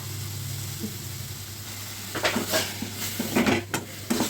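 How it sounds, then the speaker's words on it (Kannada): Chopped tomatoes frying in a pan, with a steady low sizzle broken from midway by scraping stirs and clinks of a utensil against the pan, close by and moderately loud. "ಈಗ ಇದು ಕಡೆ ಆದಾಗ ಹಾಕಿನಿ ಕಸಕ್ ಟೊಮೆಟೊ ಫ್ರೈ ಮಾಡ್ಕೊಳ್ಳೋಣಂತ."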